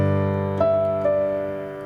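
Piano playing the opening measure of Silent Night: a few gentle notes struck in turn, each ringing and slowly decaying, clear and alone at moderate volume.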